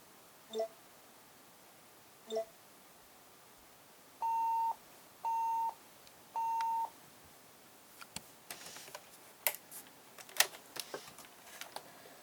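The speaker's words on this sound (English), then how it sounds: "it runs a few tests, makes a few beeps, and then beeps again when you're done" A display calibrator on a ThinkPad W700ds laptop gives two short electronic beeps, a pause, then three longer steady tones in an even row, followed by faint clicks and handling noises.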